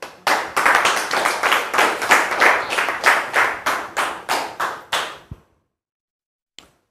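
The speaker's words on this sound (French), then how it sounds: "Merci public de recevoir notre sœur Priscille Kwasi sous vos applaudissements" Rhythmic clapping, likely from a studio audience, welcomes a guest onto a set: a steady series of loud, close, evenly spaced claps that stops abruptly, followed by silence and a single faint tap.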